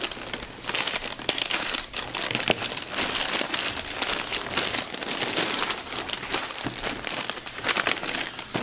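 A package of carbon felt is cut open with scissors, giving close, continuous crinkling and crackling of plastic wrap for several seconds with sharp snips, and no talking.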